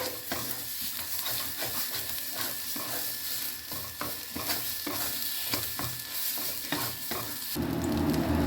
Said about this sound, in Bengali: আবার একটু নাড়িয়ে নিলাম।